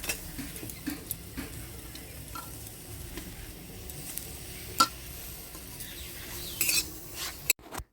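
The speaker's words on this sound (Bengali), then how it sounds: "সবগুলি একসঙ্গে নেড়ে চেড়ে একটু ভাজা ভাজা করে নিলাম।" Black pepper and onion frying in a pan while being stirred, a soft continuous sizzle broken by light scraping and clicking taps of a utensil against the pan, ending with a louder clatter.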